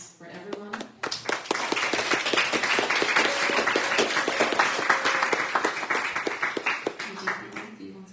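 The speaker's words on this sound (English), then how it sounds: "big hand of applause for everyone" A crowd at a Gaudiya Netherlands community gathering bursts into sustained applause, dense clapping swelling after the first second and holding steady before tapering off, with brief speech at the start and end.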